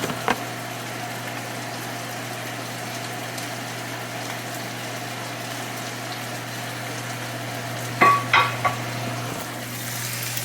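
Onions and garlic frying in a pan, a faint steady sizzle over a constant hum, with a few sharp clatters of a utensil against the pan near the end.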